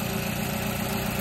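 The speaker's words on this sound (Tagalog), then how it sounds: "Kasi palyado yung makina. Makikita nyo naman yung andar." Mazda CX-7 engine idling roughly with a misfire, a steady low droning hum with faint uneven pulsing, close and continuous throughout.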